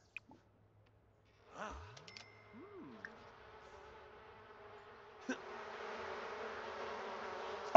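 Bees buzz from a beehive in a The Sims 4 farming game. A faint, steady insect drone follows a few soft game tones and grows fuller and louder toward the end, with no talk.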